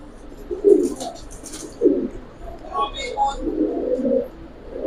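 Giribaz pigeons coo in soft low bursts close by, several throaty calls spaced irregularly over a few seconds, with people talking in the background.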